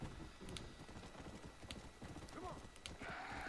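A horse gallops in Red Dead Redemption: Undead Nightmare, its hoofbeats a steady, quick clip-clop under a dense wash of game ambience, with a brief whinny near the end.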